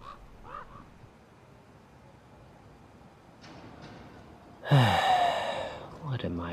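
A raven caws harshly and close, a loud burst followed by a second shorter call, after a quiet stretch of faint breaths and soft background noise.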